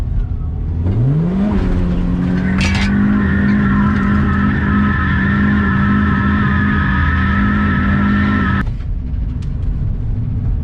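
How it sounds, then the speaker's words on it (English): A drift car on a test drive, its engine revving up sharply and then holding a loud, steady high-rev drone for several seconds before cutting off abruptly, with brief tire and mechanical noise mixed in. "I'm gonna go on a test drive in a couple of minutes."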